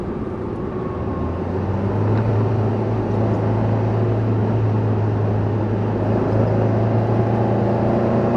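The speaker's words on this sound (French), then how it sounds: "on en profite pour faire rouler cette belle auto" A Porsche 914 drives along and accelerates, its engine giving a steady, continuous drone with road noise, fairly close and constant throughout with no talking.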